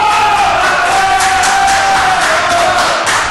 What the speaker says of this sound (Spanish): Esos aplausos que usted escucha son la producción